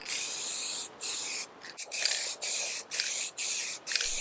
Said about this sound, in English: I used sanding sealer and I sprayed everything